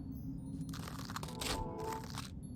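Trees crunching and breaking in the god game Black & White 2, a dense crackling crunch that swells in two bursts over a steady low rumble of ambient game sound.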